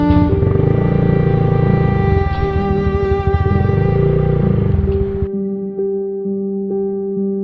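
Motorcycle engines hum steadily and close by as they push through a flooded street in Panginay, Guiguinto, Bulacan, then fall away, leaving a quieter tonal drone.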